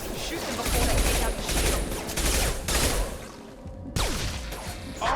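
Dense gunfire crackles in a Mass Effect 2 firefight, rapid bursts and single cracks in quick succession, loud and close, with a brief lull before more shots.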